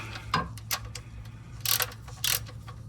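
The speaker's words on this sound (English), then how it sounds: "loosen the drain plug. So this is a 15mm socket that we're going to release here" A 15mm socket wrench loosening a car's oil drain plug during an oil change, giving a few sharp ratcheting clicks in short bursts over a low steady hum.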